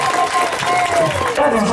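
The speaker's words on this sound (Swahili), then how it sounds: "Makofi mengi." Applause from a crowd at a Mwenge torch project inspection in Sengerema, Tanzania, a steady broadband patter lasting under two seconds with a voice speaking over it.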